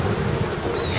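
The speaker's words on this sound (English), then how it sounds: "And this is Manly Beach" Surf at Manly Beach in Australia washes in a continuous broad rush, mixed with wind buffeting the microphone, with no distinct single wave break.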